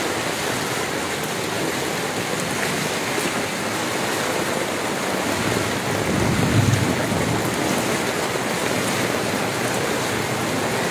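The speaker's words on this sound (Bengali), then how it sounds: "আমি বুঝতে পারি না কেন বৃষ্টি এমন, পানির স্রোত কেমন দেখেন" Heavy rain falls in Chittagong while floodwater flows past, making a loud, continuous hiss and rush throughout with a slight swell midway.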